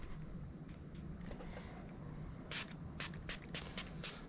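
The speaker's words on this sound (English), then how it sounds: "give it a couple real quick sprays on there" A can of headlight lubricant spray hisses onto a car headlight in several short quick bursts, close and fairly loud over a quiet background.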